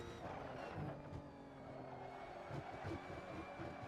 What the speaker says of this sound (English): if you hear the tires chirping like that under braking, but you don't feel the lockup and you don't see smoke